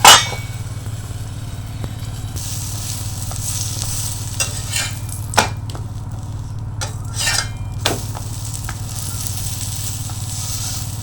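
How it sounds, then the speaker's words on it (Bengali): Aloo kulcha fries in butter on a hot tawa, a steady soft sizzle running throughout with occasional clinks and scrapes of a spatula against the pan, no talking. "এটা এপাশ ওপাশ ভেজে নিলাম"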